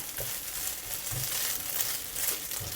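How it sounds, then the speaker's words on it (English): Eggs scrambling in oil in a wok for a Chinese braised fish with tofu dish, a steady sizzle with a few soft stirring scrapes, fairly quiet and close. "Using the same oil, we'll scramble our eggs."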